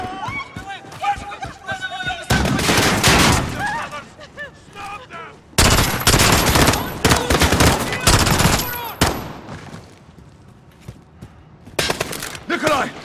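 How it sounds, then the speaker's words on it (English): Bursts of loud automatic gunfire and rapid shots from the video game Call of Duty: Modern Warfare come in heavy, dense volleys separated by quieter stretches, with voices talking between and under the shooting. "The gunshots, of course."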